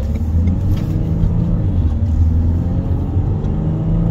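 A Renault Espace engine drones in a steady, loud, low rumble heard from inside the car as it pulls away under throttle, with no talk over it.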